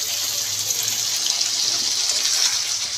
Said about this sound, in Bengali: সবজি ঝোল রাখবো এর জন্য গরম পানি দিয়ে দিলাম